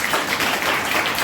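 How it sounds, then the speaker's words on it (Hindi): Applause from a church congregation, steady dense clapping filling the whole short stretch at moderate loudness, with no voices over it. "जोरदार ताली बजाएं।"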